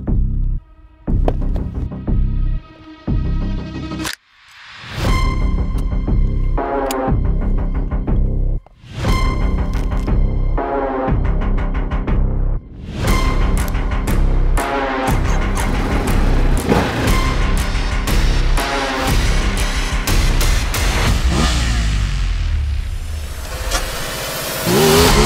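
A Ducati DesertX adventure motorcycle engine revs repeatedly off-road, rising and falling in pitch with brief cuts between bursts, loud and close, then holds a steady throbbing roar.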